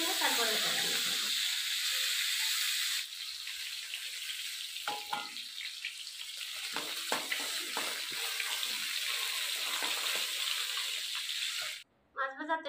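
Oil hisses and sizzles in a pan while frying fish in a home kitchen, a bright steady crackle that thins into intermittent spits and pops, with someone talking over it and a short break near the end.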